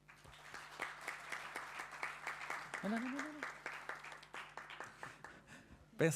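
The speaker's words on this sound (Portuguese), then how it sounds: "peço mais uma salva de palmas para todos os investigadores que aqui estão" An audience claps for a group of Spanish and Portuguese researchers at a panel session, steady applause running throughout with a louder burst of clapping near the end.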